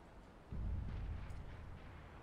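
A flashbang grenade detonates in a competitive shooter match, a sudden loud low boom that swells and then rumbles on with a dense, sustained roar through the rest of the moment.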